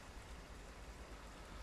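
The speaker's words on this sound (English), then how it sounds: "It's raining, so lights on." Steady, dense rain hiss with a low rumble in UK Truck Simulator, continuous and even throughout, with no voices.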